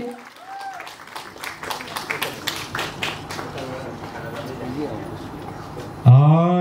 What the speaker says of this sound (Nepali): कृपया जोरदार ताली